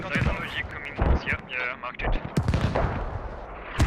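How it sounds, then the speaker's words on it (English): Artillery barrage in the military shooter game Squad, booming impacts and rumbling blasts in quick succession, heard under a caster's talk during a competitive match. "And the barrage coming in."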